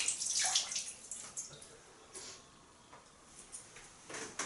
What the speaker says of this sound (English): I'm going to splash my face with some of this water